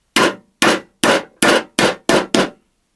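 Seven sharp metallic hammer taps on a pin, ramrod or punch, evenly spaced and ringing, close and loud with silence after.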